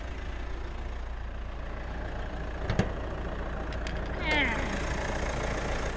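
A Mitsubishi Pajero Sport 2.4-litre common-rail diesel, 181 horsepower, idles steadily with a low, even rumble, close by, with a couple of brief clicks and a short mechanical sweep partway through.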